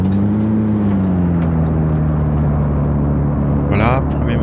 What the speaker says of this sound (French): C'est parti pour le démarrage.